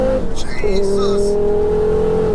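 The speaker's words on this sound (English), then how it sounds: "5-cylinder sound too. Sounds amazing." A 689 bhp Ford Focus RS five-cylinder engine on very wet roads, revving hard in second gear, close and loud, with a sustained buzzing howl that climbs in pitch, then holds steady and strong.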